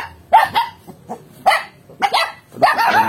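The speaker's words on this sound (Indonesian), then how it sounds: "Ada gonggongan anjing saja di sini." A dog at a remote rural house in a Sundanese village barks repeatedly, about five or six sharp, loud, close barks in an irregular rhythm with short pauses between.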